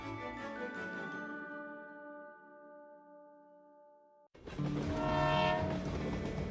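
A Conway Scenic Railroad train sounds a sustained, chord-like horn that fades out, followed after a brief gap by a louder, rumbling horn blast with rail noise.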